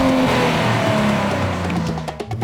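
A 2026 Nissan Z sports car engine revs hard up close, a loud continuous roar with rising and falling pitch as it accelerates, tapering slightly at the end.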